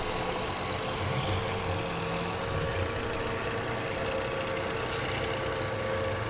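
A John Deere tractor engine in the farming video game Farming Simulator 17 holds a steady, droning low rumble, idling evenly and continuously at moderate loudness with no voices over it.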